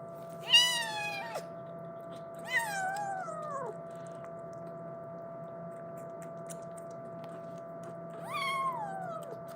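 A cat gives three drawn-out, wavering meows, spaced apart by quiet pauses against a low steady hum.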